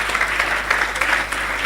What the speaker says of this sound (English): we should give a really resounding applause to the LifeClass team that put this up